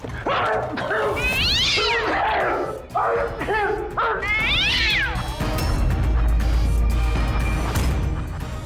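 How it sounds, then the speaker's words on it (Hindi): A cat meows and caterwauls loudly at close range in a run of rising, drawn-out calls, followed by a low rumbling hum once it stops. "उस रात तुम्हारे साथ यहाँ ये बिल्ली भी मौजूद थी।"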